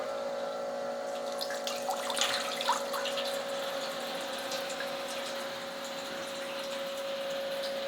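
A 25 watt pump in a Brewzilla Gen 4 65L brewing system hums steadily while circulating water, with a constant tonal whine under a soft splashing, running water texture.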